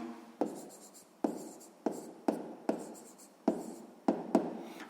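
Handwriting with a pen on paper while working a math exercise: a quiet series of scratchy strokes in short bursts, each starting with a tap and trailing off, repeating about eight times with no talking.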